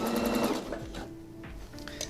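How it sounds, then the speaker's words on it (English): A sewing machine stitches a sleeve seam across the shoulder of a winter coat, heard up close as a rapid whirring run that slows, pauses and picks up again in short bursts. "We want to make sure our seam at the shoulder is flat as we stitch over it."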